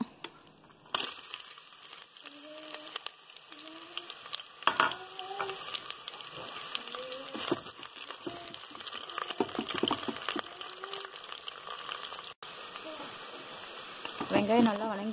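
Onions fry in a clay pot, giving a soft, steady sizzle with scattered crackles and wooden-spoon stirring scrapes, faint and close, with a few short tonal squeaks and no voices.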